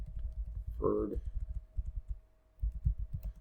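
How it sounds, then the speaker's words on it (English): Soft, irregular tapping of keys on a computer keyboard, close up, pausing briefly midway, with a short muffled vocal sound near the start. "I'm having a hard time typing today."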